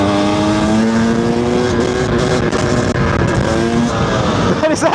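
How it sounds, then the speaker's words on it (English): A 2-stroke 300cc motorcycle revving hard in sixth gear on throttle alone, a loud, close, steady buzzing engine drone with a slight rise and fall in pitch, nearly continuous throughout. "So I'm going to try now to lift this thing in 6th gear with just throttle, not touching the clutch."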